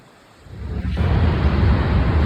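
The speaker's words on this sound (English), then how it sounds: "And the river is still running very fast, as you can see." Fast-flowing river in remote country, a broad, rushing roar of water that swells in after a quieter start and then holds loud and steady, close by, with no talking.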